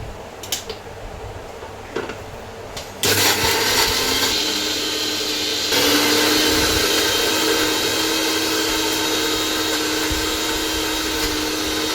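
A mixer grinder coarsely grinds masala, starting abruptly after a few quiet seconds with faint clicks, then running as a loud steady whirring roar that rises in pitch partway through.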